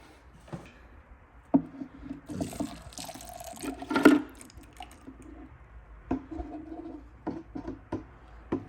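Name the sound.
water emptied from Bissell carpet cleaner tank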